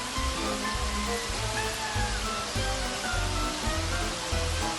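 Kurma fries in hot oil in a pot, a dense, steady sizzle and crackle with rapid bubbling pops throughout, close and uninterrupted, with no talk.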